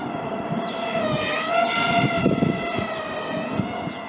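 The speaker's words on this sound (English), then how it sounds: "I think it's the rescue helicopter, I can hear it from here." A rescue helicopter gives a steady droning mechanical hum with sustained tonal whine overhead, holding at a moderate distance throughout with no talking.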